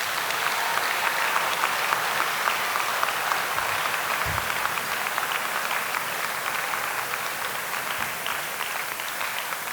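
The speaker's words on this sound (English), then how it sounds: "Let's all give one more big round of applause to our seniors." Sustained applause from a large crowd at a senior recognition ceremony, dense and even clapping filling the whole stretch without pause.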